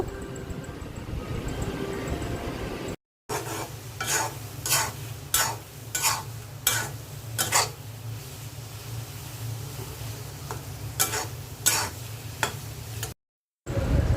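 Cow brain curry being stirred in a pan, with a soft bed of frying sizzle under repeated scraping strokes of a spoon, heard close and fairly quiet with two brief silent gaps.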